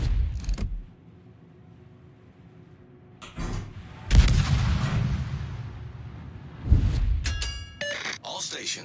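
Naval guns fire in a battleship video game, with a deep boom near the start and heavy blasts around the middle and later, each trailing into a rumble, set among quieter mechanical noise and sparse game sounds.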